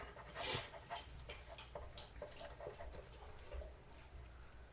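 A dog barks once sharply near the microphone, then pants and makes short, soft noises over quiet background sounds indoors.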